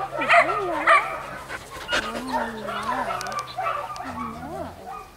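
Several dogs, including a pregnant one, whimper, yip and bark up close in a kennel, with whines rising and falling while people talk over them.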